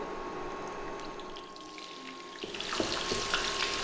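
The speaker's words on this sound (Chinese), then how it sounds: "现在炒一些葱头油" Scallions frying in oil in a wok, starting as a low steady sizzle and swelling into a louder, crackling hiss with sharp spits and pops near the end.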